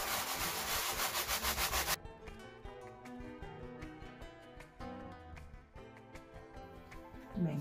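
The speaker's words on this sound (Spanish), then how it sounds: "ahora hay que lijar sin miedo y bien fuerte" Steady rhythmic rasping of sandpaper worked back and forth by hand on painted wood, close and fairly loud at first, then softer strokes continuing.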